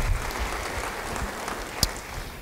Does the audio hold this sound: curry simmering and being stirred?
no